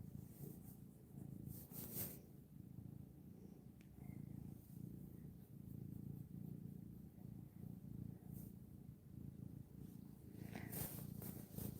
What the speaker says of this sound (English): but she is purring